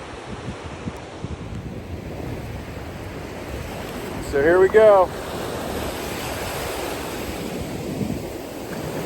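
Steady Pacific Ocean surf rushes and breaks along the Oregon Dunes shore under gusting wind, with someone speaking briefly partway through.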